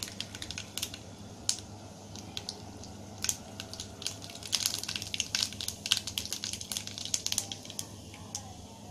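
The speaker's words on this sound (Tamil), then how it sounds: "எண்ணெய் காஞ்சதும் கடுகு பருப்பு போடுங்க." Mustard seeds and dal fry in hot oil for a snake gourd kootu, faint scattered crackles and pops that grow busier partway through over a quiet low hum, with no talk.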